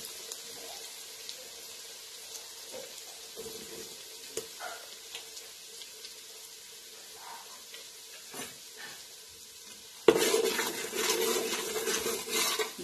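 Cumin seeds and leftover stuffed-eggplant masala going into hot oil in a pot: faint crackling and small taps at first, then a sudden loud, steady sizzle bursting up near the end, with no talk.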